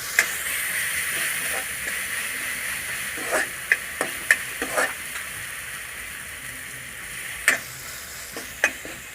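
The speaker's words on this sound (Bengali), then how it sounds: "তখন আমার পেঁয়াজটা সুন্দর করে লাল লাল করে ভাজা হয়ে গেছে" Onions sizzle steadily in hot oil after garlic and ginger paste goes in, a constant fry with scattered sharp ticks and scraping stir sounds.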